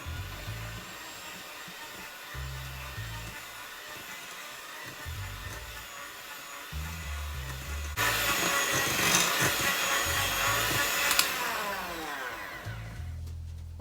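An electric mixer creams butter and half a pound of sugar for a Jamaican fruit cake, a steady close motor whir running without pause and growing louder and harsher partway through.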